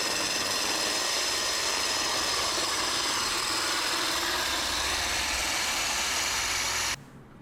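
A core drill bores into a concrete curb while a screw jack presses it into the cut, giving a loud, steady motor whine with a grinding rasp that runs unbroken for about seven seconds and then stops abruptly.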